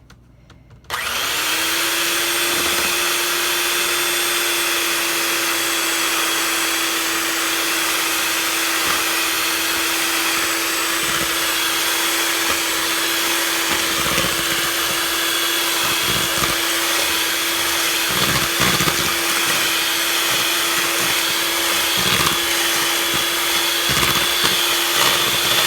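Steady whir of an electric hand mixer blending banana bread batter made with cannabutter and a lot of sugar, starting abruptly after a second of quiet and running loud and unbroken throughout.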